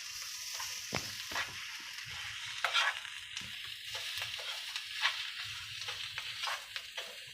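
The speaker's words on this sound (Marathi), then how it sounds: "चांगलं मिक्स करून घ्यायचं." Karela fry with ginger-garlic paste, coriander and crushed peanut masala is stirred in a pan: a soft steady sizzle with intermittent scraping strokes of the spoon, close and fairly quiet, no talk.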